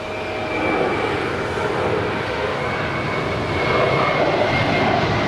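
A jet airliner takes off from runway 25 right at Los Angeles International Airport, its engines a loud, broad, steady roar that swells slightly toward the end and drowns out everything else.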